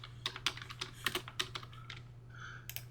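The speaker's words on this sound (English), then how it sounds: "Let's go ahead and type that out." Keys on a computer keyboard tap in a quick, irregular run of soft clicks, close and quiet over a faint steady hum.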